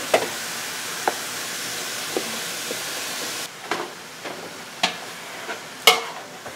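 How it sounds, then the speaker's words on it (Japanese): Chicken pieces go into a hot pot for chanko and sizzle with a steady frying hiss, punctuated by occasional clinks and stirring knocks of utensils. "もう鍋もいけそうだったら鶏肉入れちゃうよ。"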